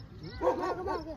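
A dog barks a few times close by, short harsh yelps in quick succession with faint background noise.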